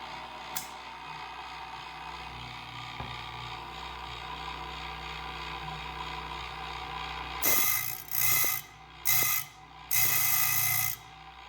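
A Chicago Electric blade sharpener grinds a saw blade tooth by tooth, giving four loud, bright bursts of about half a second to a second each near the end, after a long stretch of steady motor hum.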